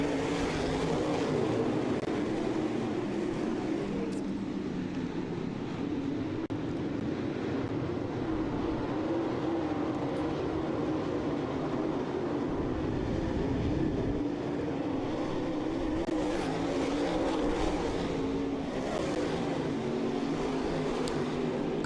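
Race car engines roar in a continuous, loud, broadband rumble at a speedway in Southern Ontario as cars fire up for the feature race, with no talking over the sustained engine noise.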